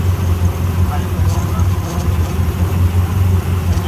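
A Honda Civic EK engine idles just after a timing belt replacement, giving a steady, close low drone that holds even throughout with no revving.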